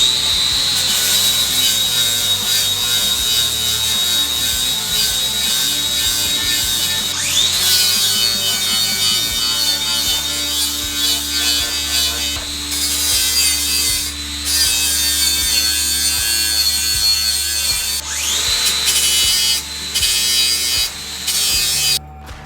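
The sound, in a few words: 60 grit flap disc grinding lawn mower blades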